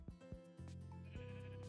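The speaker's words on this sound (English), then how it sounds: "There's a sheep." Sheep bleat in Minecraft, two or three close, nasal cries following one another in quick succession, fairly loud and heard alone.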